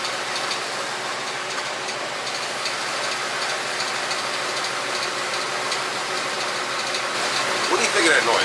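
A 1989 Chevy K5 Blazer engine drones steadily throughout, with a faint rhythmic rotational knock underneath, slightly louder toward the end.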